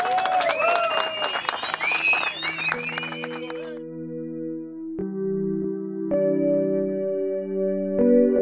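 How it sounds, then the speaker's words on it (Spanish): A crowd at the Margara Pro 2017 surfing event applauds and cheers for Rubén Gómez, with whistles and shouts over the clapping for a few seconds before it gives way to sustained electronic music tones. "la persona que se merece un aplauso bien grande"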